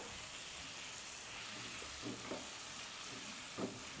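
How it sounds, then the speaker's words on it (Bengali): Tomato fries quietly in a pan for a fish curry with okra and potato, a soft steady sizzle with a few scraping strokes of a spatula stirring, faint and close. "এইভাবে টমেটোটাকে ভেজে নেব দেখুন টমেটোটা খুব সুন্দর সেদ্ধ হয়ে গেছে খুন্তির সাহায্যে খুব ভালোভাবে মিশিয়ে নিলাম"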